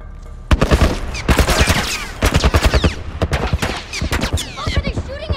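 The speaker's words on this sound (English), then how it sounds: "Some kind of military turret." Military turret gunfire in The Last of Us video game: loud, rapid bursts of shots in quick clusters with brief gaps, close and dominant throughout.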